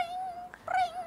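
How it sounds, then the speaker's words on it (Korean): A cat meows in a clear, drawn-out call with a short second rise near the end, close and alone with no talk over it. "오, 얘 고양이가 막."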